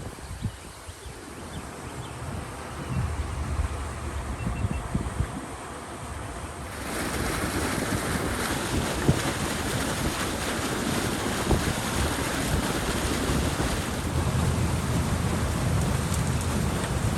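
Water rushes through a breach that an excavator has busted in a beaver dam, a continuous broadband churning roar that grows noticeably louder and fuller partway through and then holds steady.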